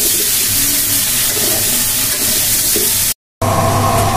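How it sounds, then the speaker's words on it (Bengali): Sweet gourd (lau) frying in a pan gives a steady, close sizzle with faint stirring, broken by a brief silent gap near the end before the sizzle resumes louder. "আমাদের মিষ্টি লাউ ভাজি হয়ে গিয়েছে, এখন আমরা নামিয়ে ফেলবো।"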